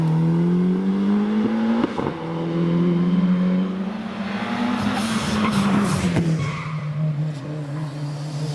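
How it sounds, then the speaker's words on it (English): A turbocharged Ford Escort Mark II with a Cosworth head races at a Prescott British Championship practice, its engine droning loud and steady with shifting pitch, while tyres squeal and skid near the end. "This has got the Cosworth head on it, a turbocharged engine."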